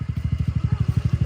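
A dirt bike engine running at a steady idle, its fast regular exhaust pulses thumping close and loud with no voices over it.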